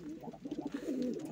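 Low rolling coos from a pigeon kept with budgies, a soft throaty burble repeating in short pulses close by, with no talking over it.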